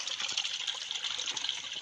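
Steady rushing creek water with a bright, hissy splash, flowing continuously and fairly close, no voices present.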